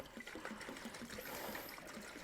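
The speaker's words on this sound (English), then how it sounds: "we're going to start by pouring at least a gallon of diesel in it" Diesel glugs and trickles steadily as it is poured into the fuel tank of a Peugeot 305 van, a faint continuous liquid gurgle heard up close with no talking.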